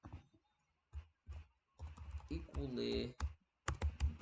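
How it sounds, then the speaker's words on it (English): Keys on a computer keyboard clatter in quick clusters of clicks and taps, mixed in with a person speaking briefly at a quiet, close level. "Let's get to typing."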